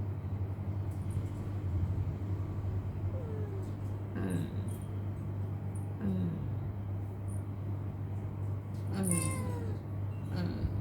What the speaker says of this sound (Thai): แมวเด็กค่ะ